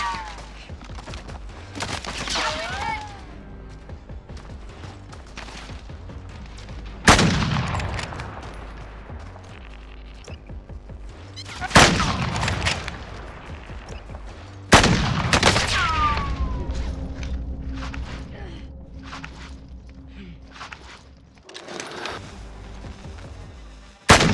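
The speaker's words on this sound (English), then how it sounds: "Taking direct fire." Gunfire in the video game Call of Duty Warzone (Cold War), several loud bursts and booms spread across the stretch, with game effects and faint radio-style voice cues between them.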